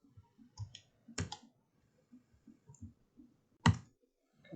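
Soft, quiet mouse clicks while working in Blender 3D, scattered single taps with two sharper, louder clicks standing out against near silence.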